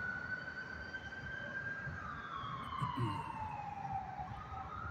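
Distant ambulance siren, wailing in a slow, falling sweep over steady low background rumble, faint and alone with no voices.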